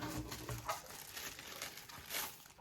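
A cheap budget tablet pulled from its plastic packaging, with soft close crinkling and rustling of wrap in short irregular bursts, quiet and with no talking.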